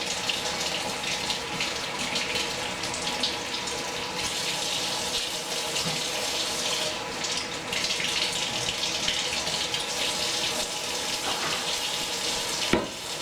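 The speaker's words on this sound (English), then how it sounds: "Now I'm going to fill that barrel up a little bit with water." Tap water runs steadily into a traditional muzzleloader barrel during cleaning, a loud, close, continuous hissing splash with no pauses.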